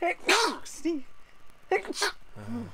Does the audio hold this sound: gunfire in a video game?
no